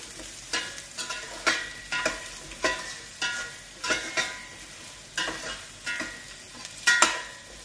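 Braised potatoes in soy sauce are stirred in a pan, a spoon scraping in a steady rhythm of about a dozen strokes over a soft sizzle.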